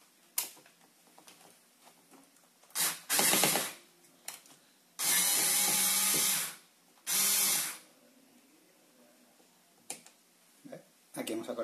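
A NOUVCOO electric screwdriver whirs in three close bursts, with the middle one longest, and small clicks and handling noises fall between the runs.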